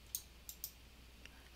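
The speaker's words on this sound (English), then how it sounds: "right clicking and copying" A computer mouse gives a few faint, sharp clicks during right-clicking, spaced irregularly in a quiet room.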